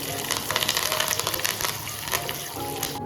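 Curry leaves dropped into hot tempering oil with urad dal for a rava idli chutney seasoning, a loud crackling sizzle that bursts and sputters densely throughout.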